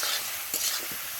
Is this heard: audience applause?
no